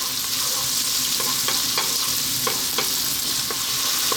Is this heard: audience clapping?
no